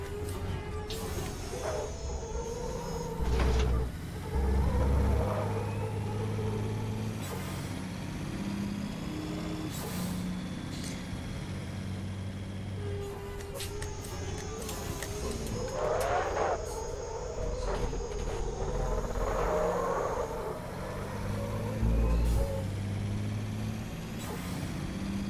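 A heavy MF-Truck engine in the Raceroom Racing Experience sim is driven up through the gears, its steady drone rising and dropping at each shift, while intermittent louder bursts and air-brake-like hisses stand out over a continuous low rumble.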